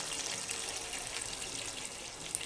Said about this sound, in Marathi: आणि आता ह्याच्यात थोडंसं पाणी घालायचं आहे